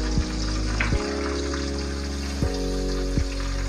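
Dried anchovies being washed in water: a steady wet swishing and splashing with a few soft knocks, close by, with no talking.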